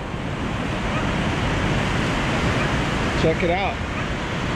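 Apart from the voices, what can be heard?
ocean surf waves on the coast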